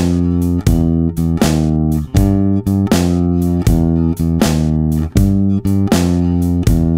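A bass guitar plays a shuffling 12-bar blues turnaround in G over a drum groove, steady repeated notes with a chromatic step into the next bar, loud and close with no talking.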